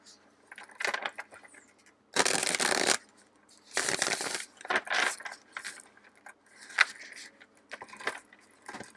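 Tarot cards riffle and shuffle in several bursts, crisp papery flutters close by with short pauses between each round.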